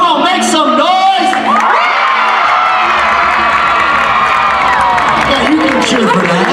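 A school assembly audience of students cheers, whoops and shouts loudly in response to a speaker's call, a dense crowd roar with rising and falling voices over several seconds.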